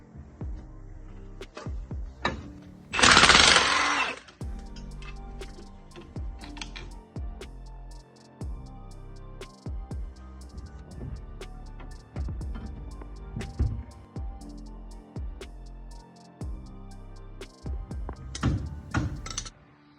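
Bolts come off the dust shield that carries the wheel speed sensor on an S10 or Blazer spindle, with close metallic clinks, taps and clunks scattered unevenly and a short burst of hissing air tool noise near the start.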